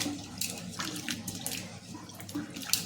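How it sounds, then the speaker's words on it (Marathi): Raw turmeric roots soaked overnight are rinsed by hand in water, giving close splashing and sloshing with a few drips, steady at moderate level with no talking. "तर अशा पद्धतीने सर्व मी धुवून घेत आहे"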